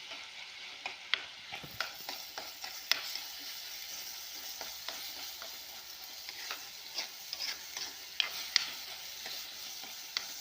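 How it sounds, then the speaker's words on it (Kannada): Tomato paste fries in a pan, with a soft continuous sizzle broken by frequent sharp clicks and scrapes from a spoon stirring against the pan. "ಹಸಿ ವಾಸನೆ ಹೋಗುವವರೆಗೆ ಟೊಮೆಟೊ ಪೇಸ್ಟನ್ನು ಕಾಯಿಸ್ಬೇಕು"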